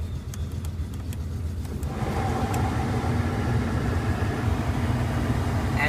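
A 1981 Buick Electra Limited with a hard-starting carburetor runs steadily after starting, a continuous near engine idle that grows fuller and louder after the first two seconds, with no talking.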